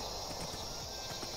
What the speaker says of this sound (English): Bamboo forests are horrible to cross by horse.